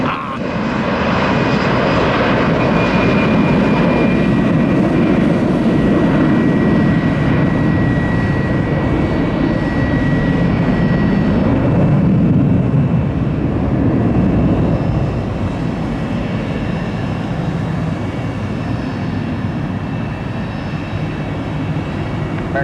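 An MD-80 airliner's jet engines roar loudly and continuously at Tampa airport in heavy rain, a steady broadband rumble holding for over twenty seconds with a slight swell midway.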